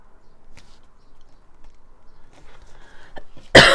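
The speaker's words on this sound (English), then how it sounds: "it's just a silly dry hacking cough" A dry hacking cough bursts out loudly and close at the very end, after a few seconds of quiet indoor rustling and faint taps.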